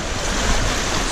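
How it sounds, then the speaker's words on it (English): Small ocean waves wash in on a New Zealand west coast beach, a close, dense rush of surf and water hiss with a little wind, steady throughout with no voices. "We're in the water, gonna touch this little wave."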